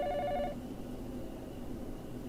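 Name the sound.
telephone ringing in video game 428 Shibuya Scramble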